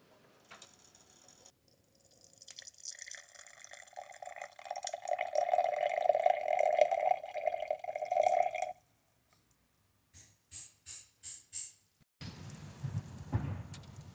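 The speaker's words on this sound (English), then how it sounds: "Spoonful of fennel seeds and some boiling water" Boiling water streams onto a spoonful of fennel seeds in a cup for several seconds with a rising, filling tone, followed by a few light drips and clinks.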